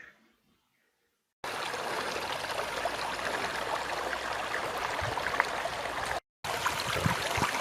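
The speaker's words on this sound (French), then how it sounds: "c'est toujours l'eau qui coule dans le fossé de la voie ferrée" Water flows continuously through a railway-side ditch fed by a stream near Lac Mégantic. After a quiet start it becomes a close, steady rushing trickle with one brief cut.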